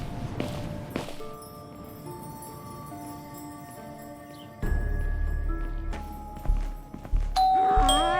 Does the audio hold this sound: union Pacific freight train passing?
no